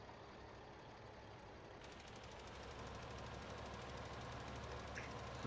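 Tractor engine in Farming Simulator 2015 running as a steady, faint broadband rumble that grows slightly louder and denser partway through, with no talk over it.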